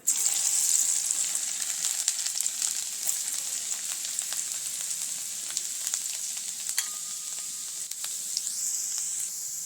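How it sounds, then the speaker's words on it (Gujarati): A pinch of cumin and finely chopped garlic sizzle in hot oil, a loud, continuous crackling hiss with scattered sharp pops, close and alone without any voices. "તે જ ગરમ થયેલા તેલમાં આપણે ચપટી જીરું ઉમેરીશું વઘાણી ઉમેરી દઈશું ઝીણું ઝીણું કટિંગ કરેલું લસણ"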